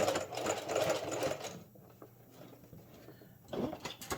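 A sewing machine whirs in fast bursts of stitching, pausing briefly in the middle before starting up again, close and fairly loud.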